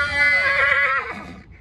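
A Marwari stallion with four white legs gives a loud, close whinny lasting over a second, its pitch wavering before it trails off, with no talk over it.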